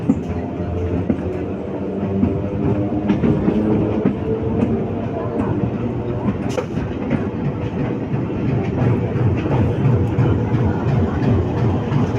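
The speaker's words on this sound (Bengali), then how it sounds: "সঠিক টাইমে গন্তব্যে পৌঁছালো ট্রেন" A train rumbles steadily along the tracks close by at Bandel station, with rhythmic clickety-clack and a low heavy drone throughout, and faint voices mixed in.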